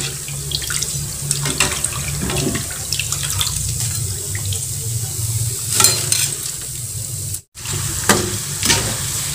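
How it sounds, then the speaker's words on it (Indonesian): Coconut chips fry in a small wok with only a little oil, giving a steady bubbling sizzle with scattered crackles. It runs continuously and close-up, dropping out briefly near the end. "karena minyaknya sedikit ini dan wajannya kecil, kita akan goreng 2 kali ya"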